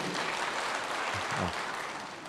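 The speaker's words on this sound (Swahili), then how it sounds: "Mpigeni makofi." A crowd at an outdoor political rally in Thika claps for the Senate majority leader, a broad, distant wash of applause that holds steady and fades slightly at the end.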